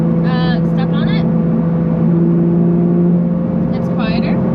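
Porsche 992 GT3 fitted with a new exhaust, heard from inside as a steady droning engine hum while driving, with people talking briefly over it.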